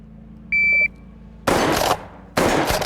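A shot timer gives one short electronic beep, followed by two loud, close blasts from a Stoeger P3000 shotgun, each ringing out briefly before the next.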